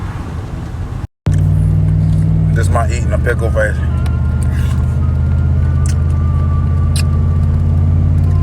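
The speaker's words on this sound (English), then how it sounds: "Gotta love old trucks, dude." The engine of an old 1991 pickup truck drones steadily and close while driving, with a low, constant rumble interrupted by a brief cutout near the start, and someone talks over it.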